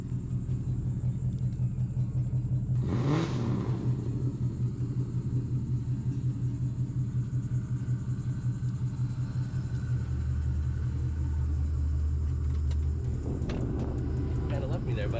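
A deep, steady Saleen Mustang engine rumble runs throughout while driving, with a loud burst around three seconds. Voices chatter faintly beneath it.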